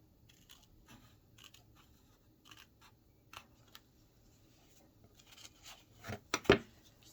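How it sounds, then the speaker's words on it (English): Scissors snip through a paper overhang on a handmade journal's interior page, a few quiet cuts followed by a sharper, louder crunch of blades closing near the end. "We'll trim that off."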